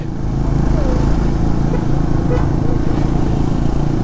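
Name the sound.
Suzuki Gixxer 250 motorcycle riding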